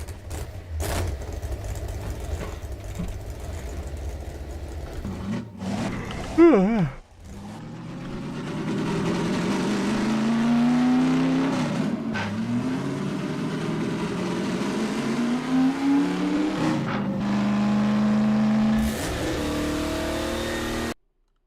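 A car driven in Half-Life 2 Episode Two, its engine droning and revving with rising and falling pitch through several throttle swells, loud and continuous, with people talking over it.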